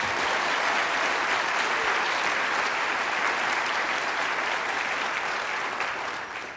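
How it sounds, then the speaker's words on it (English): A large audience at a NASA event applauds loudly and continuously, with dense, even clapping that holds steady and then begins to fade at the end. "We can clap for that."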